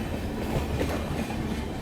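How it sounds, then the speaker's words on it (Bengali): An express train passing through Madhupur station without stopping, a loud, steady rumble of wheels with rhythmic clickety-clack from close on board. "আমাদের ট্রেনটা এখন মধুপুর স্কিপ করছে।"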